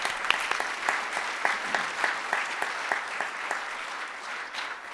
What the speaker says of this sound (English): So if you please give them a round of applause